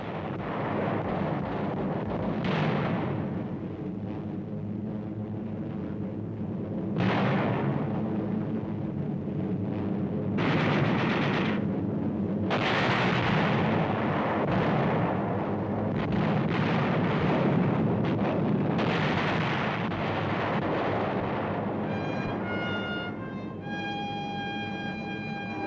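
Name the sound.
delayed action bombs exploding, World War II footage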